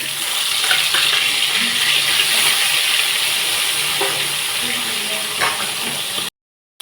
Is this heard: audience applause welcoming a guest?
no